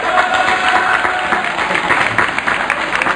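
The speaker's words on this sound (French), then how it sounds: "nous pouvons les applaudir" A festival crowd at an outdoor pig festival in Hayange applauds loudly and steadily, a dense wash of clapping filling the space for a few seconds.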